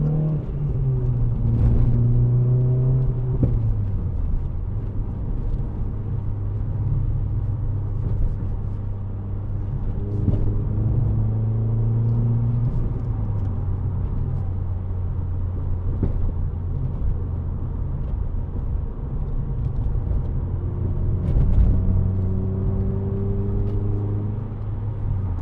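A 2010 Renault Clio 2.0 VVT Renaultsport three-door hatchback drives steadily under a constant engine drone and road rumble, with the pitch rising and falling through several gear changes and no talking.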